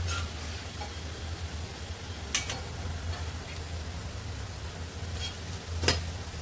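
Vegetables frying in hot oil until golden brown, a steady low sizzle with faint crackle and a couple of brief sharp pops, no talking.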